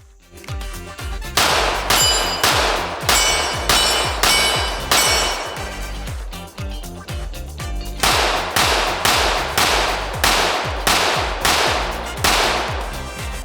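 A ported Glock 17 pistol fires rapid strings of shots at steel targets on a shooting range, each loud crack followed by a ringing metallic clang, in steady bursts with a brief pause midway.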